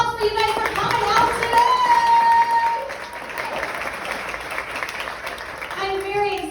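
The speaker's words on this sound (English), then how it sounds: "let's give it a round of applause for you guys for coming out" Audience applause at a live talk on leadership in comedy, a dense wash of clapping filling the room that swells in the middle and eases off, with a few voices and cheers mixed in.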